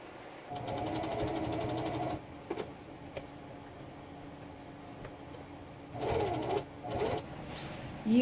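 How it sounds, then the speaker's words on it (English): A sewing machine stitching the edge of a blouse, a steady fast whirring hum in two separate runs with quiet pauses and small clicks between them. "After sewing the edge, I'm going to fold like this."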